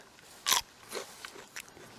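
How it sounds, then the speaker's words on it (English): Fresh garden peas picked straight off the plant crunch as they are bitten and chewed, one sharp bite followed by a few softer crunches, close up with no talking. "these things you can just pick off while you're walking around and start chewing on them"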